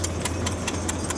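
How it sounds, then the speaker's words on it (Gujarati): A tractor engine runs steadily while reversing, a low continuous drone with rhythmic clattering knocks about every fifth of a second, close and alone. "પાછું ટ્રેક્ટર રિવર્સમાં લાગી જાય"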